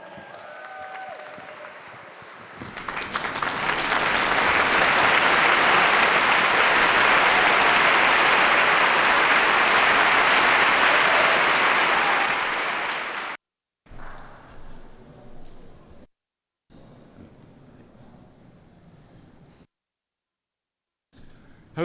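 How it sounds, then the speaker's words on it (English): Loud sustained audience applause with cheering at a youth budget engagement event in Chicago, swelling after a brief quiet start and running about ten seconds before cutting off, followed by scattered quieter noises and gaps. "Y'all make some noise for Benjamin Kagan right now."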